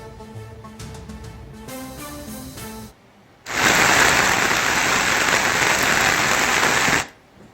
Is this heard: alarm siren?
no